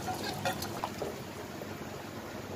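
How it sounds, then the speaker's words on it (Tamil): Rice being gently stirred in boiling water for Ambur biryani in a home kitchen, a faint steady bubbling and soft liquid churning with a few light scrapes early on, no voices. "லைட்டாக கிளறிக்கோங்க அரிசி உடையக்கூடாது"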